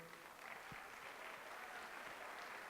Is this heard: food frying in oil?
no